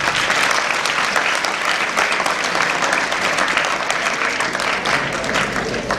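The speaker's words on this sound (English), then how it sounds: "Big clapping for him" School students clap for a classmate during an earthquake mock drill, a loud, dense burst of many hands applauding steadily throughout with no voices over it.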